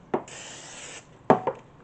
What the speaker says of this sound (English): You're gonna spray your breadfruit.